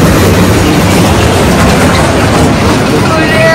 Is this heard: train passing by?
yes